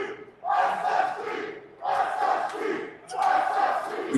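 A large arena crowd at The Finals esports grand major roars and chants in three loud surging waves, each swelling and dropping in quick rhythmic succession.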